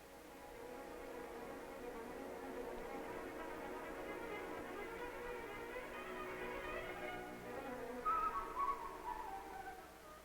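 A person whistling a slow, wavering tune over a soft, steady background hiss, the notes rising and sliding, growing a little brighter near the end.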